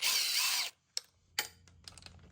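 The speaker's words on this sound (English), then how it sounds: "we do have to remove these three 13mm bolts to get this airbox plate off" A power tool whirs loudly for about half a second while removing 13mm bolts from the airbox plate of a Yamaha TTR 50 dirt bike. Then comes quiet, followed by a few sharp metallic clicks and clanks of the tool and parts nearby.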